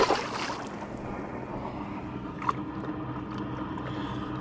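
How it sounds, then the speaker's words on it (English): Boats passing on a lake during summer catfish fishing make a continuous low engine rumble and churning water, steady and moderately loud, with wind buffeting the microphone and a brief knock partway through. "These darn boats out here, they're getting crazy."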